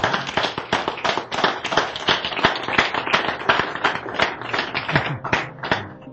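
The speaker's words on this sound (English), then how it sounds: "Give her a nice round of applause." Audience at a magic show clapping for a volunteer coming up: dense, fast burst of hand claps from a small crowd, close and lively, fading slightly toward the end.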